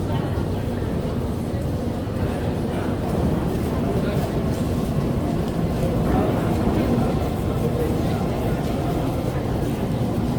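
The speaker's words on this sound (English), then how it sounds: "Let's wait for another train and see it again." A St. Petersburg subway train rumbles through a station with a steady, loud low roar that fills the whole stretch, mixed with the noise of a crowd.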